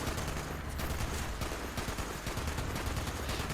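Dense gunfire in the video game Fallout 76, with rapid overlapping shots and bursts rattling loud and continuous throughout, like a heavy firefight close by.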